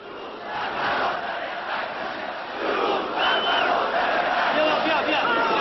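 Large stadium crowd in Iran in 1979 roaring and cheering in a sustained distant wash of voices that swells and grows louder toward the end.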